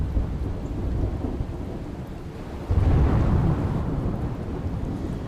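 Heavy rain pours steadily during a Gujarat downpour, with deep thunder rumbling loudly and swelling into a stronger roll midway, alone with no voices.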